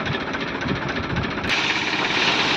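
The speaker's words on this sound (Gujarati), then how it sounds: "તો આ રીતે મિત્રો મગફળી ખાલી થાય છે ડાયરેક્ટ ટ્રેક્ટરમાં" A groundnut thresher empties its shelled groundnuts straight into a tractor, with a loud, continuous engine drone and rattling vibration that shifts to a brighter, harsher tone partway through.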